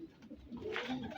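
Missay pigeons give soft, low coos close at hand, a few rolling throaty phrases over a faint, quiet background.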